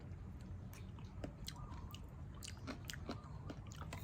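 Crunchy, slightly bitter bolete mushroom chewed up close, with a quick run of moist crunching bites over a low steady background hum and no talking.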